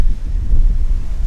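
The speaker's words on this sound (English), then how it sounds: "guys, it is super windy out." Strong wind buffets the microphone at Spring Mountain raceway in Pahrump, Nevada, producing a loud, low, continuous rumble.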